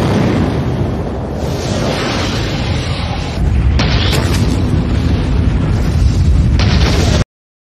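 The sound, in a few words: explosion in the film Higanjima 2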